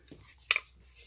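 A hand punch clacks once through a ribbon rosette strip, a single sharp, close snap standing alone in a quiet room.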